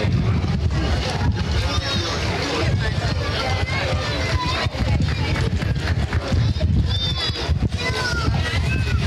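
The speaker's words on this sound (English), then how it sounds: "Now please welcome the Horse of the Fallen Soldier" Horse hooves clip-clopping during a Memorial Day parade in Rockville as the Horse of the Fallen Soldier passes, steady hoofbeats amid loud crowd babble, wind noise and an announcer speaking.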